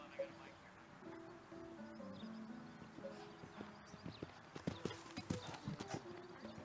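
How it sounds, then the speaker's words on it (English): Horses canter around the field at an international hunter derby, their hoofbeats growing into a quicker, more distinct rhythm later on beneath a commentator's voice and faint background music. "riding these first time Derby horses around the field"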